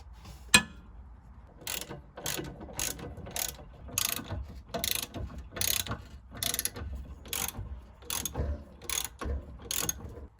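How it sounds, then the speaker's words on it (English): Ratchet clicking in repeated short bursts as it undoes the 8mm ABS sensor bolt and 13mm stub axle bolts on the rear hub of a Fiesta ST150, close up and alone, with brief pauses between strokes. "I'm going to undo the 8mm bolt holding in the ABS sensor and the 13mm bolts holding the stub axle to the rear beam"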